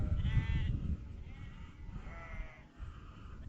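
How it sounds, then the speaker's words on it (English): Flock of hundreds of sheep in Peak District countryside near Bradfield, several bleats heard faintly from a distance over an outdoor wind background, overlapping calls without talking. "There are hundreds of sheep down there. Don't know if you can hear them."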